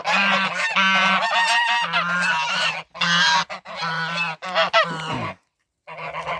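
An American Buff goose gander honks loudly and close by, with a rapid series of harsh, nasal calls in several bursts and short pauses between them.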